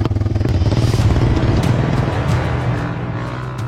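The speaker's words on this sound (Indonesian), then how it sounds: "Jalanan tanah yang licin dan rusak parah membuat ban depan motor yang kami tumpangi beberapa kali tergelincir" A motorcycle carrying passengers rides along a slippery, badly damaged dirt road in Desa Kopeang, Mamuju, West Sulawesi, its engine a loud, close, pulsing drone with rattling clatter, easing slightly toward the end.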